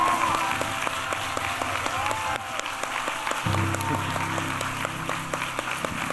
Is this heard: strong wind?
no